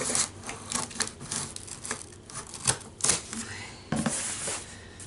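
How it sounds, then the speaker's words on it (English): Packing tape is peeled and torn from a cardboard box, giving a run of close, scratchy rips and crinkles in irregular bursts with small gaps between them. "So I'm opening the tape on my box."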